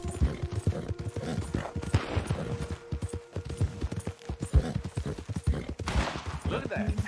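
A racehorse galloping in the Red Dead Redemption II video game, a quick steady patter of hoofbeats throughout, with sharp game noises mixed in and someone talking over it.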